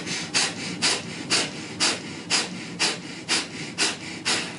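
Rhythmic forceful breaths in a pranayama yoga exercise, about ten sharp breathy bursts at an even rapid pace, close and loud with no talking.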